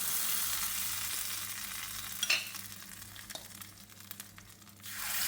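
Hot mustard-seed tempering poured into coconut chutney sets off a steady close sizzle and crackle, with stirring clatter and a brief louder burst mid-pour, easing before a fresh surge at the end.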